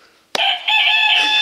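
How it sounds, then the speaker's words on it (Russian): A rooster crows loudly and close by, one long drawn-out call that starts sharply after a brief quiet and holds steady to the end. "Тихо, петух! Еще не утро!"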